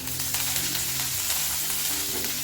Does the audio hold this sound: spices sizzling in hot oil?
yes